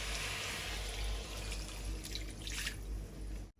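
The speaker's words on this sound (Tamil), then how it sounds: "இப்போ வந்து அப்படியே தண்ணி விடுவோம்" Water poured into a pan of vegetables that have been sautéed in oil, making a steady, close splashing hiss that runs unbroken for a few seconds before cutting off abruptly, with no talking.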